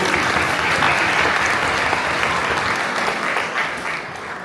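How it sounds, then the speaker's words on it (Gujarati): Audience applause fills a hall at a Diwali function and rewards ceremony: steady, dense clapping, loud and sustained throughout before tapering slightly at the end. "આપણે માતાજીને માતે તાળીઓ પાડીએ પ્લીઝ"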